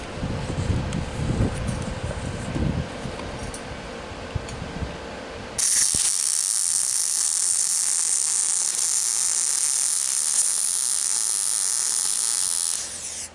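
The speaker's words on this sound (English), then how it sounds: "Weld this part right here." A fishing rod holder being welded, with a few seconds of rough mechanical rattling followed by a steady, bright, hissing buzz of the weld that runs evenly until near the end.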